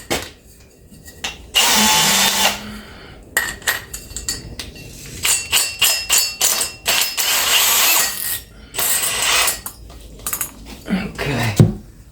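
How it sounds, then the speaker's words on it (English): A power drill bores a hole while building a 3D printer enclosure, heard in several loud whining bursts of a few seconds each, separated by short pauses and clatter, ending with the motor winding down. "I'm going to drill one more hole"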